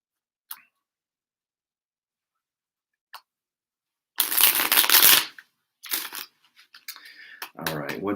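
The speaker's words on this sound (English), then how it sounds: "And I'm going to shuffle it 3 times" Tarot cards shuffled by hand during a reading, heard as a loud riffling burst followed by several shorter rustling bursts, with a few faint taps before.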